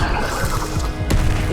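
A Confringo blasting curse goes off in Hogwarts Legacy, a loud close explosive crack bursting out over a dense, rumbling game soundscape with scattered booms.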